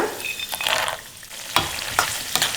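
Mustard seeds, chana dal, urad dal and peanuts fry and crackle in a pan for a tempering, with soft stirring scrapes and a few sharp pops standing out over a steady sizzle.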